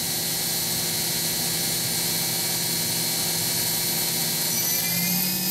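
A Bridgeport VMC 800/30 XP2 CNC vertical machining center spindle runs near its 12,000 RPM top speed, a loud, steady high-pitched whine over a broad mechanical roar, with the pitch edging upward at the end.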